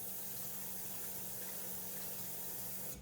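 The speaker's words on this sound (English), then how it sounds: "Catch some water in the pot with this brown rice" Water runs steadily from a tap into a pot of brown rice being rinsed for salmon croquettes, a continuous even splashing rush that stays near and constant, with no talking.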